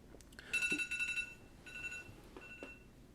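A phone rings with a bright electronic ringtone in a quiet room, two bursts of sustained tonal chiming separated by a short gap, moderately close and heard alone without talking.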